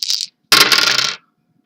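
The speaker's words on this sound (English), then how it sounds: "I'm starting to think these dice like rolling 14." Dice clatter across a tabletop in two bursts: a brief rattle, a short pause, then a longer, louder tumble that settles into silence; close and clear with no talking.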